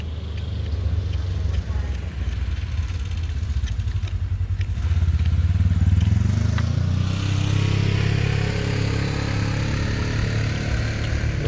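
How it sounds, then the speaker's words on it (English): A noisy 4x4 engine rumbling on a mountain road, a low droning growl that swells louder as it passes nearby and then fades, with voices talking faintly underneath. "One of them noisy 4x4s."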